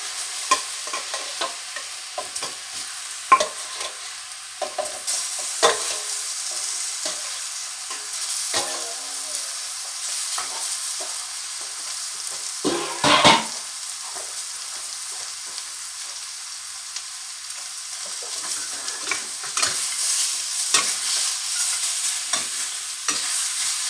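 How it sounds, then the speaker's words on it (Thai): Large pork pieces stir-fry with fragrant spice paste in a pan for Thai palo stew: a continuous near sizzle with repeated spatula scrapes and stirring clatter throughout, and no talk. "เอาหมูลงคั่วเลยครับ ชิ้นใหญ่หน่อยเนาะ"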